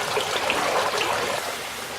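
Water is poured onto concrete during basic concrete work, a continuous close splashing trickle that stays steady and fairly loud for the whole stretch.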